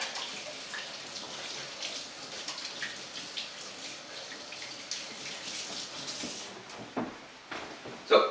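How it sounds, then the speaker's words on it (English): Tap running in a kitchen sink while hands are washed, a soft continuous trickle and splash with scattered knocks and clatters, faint and steady with a sharper bump at the end. "Time to wash our hands, right?"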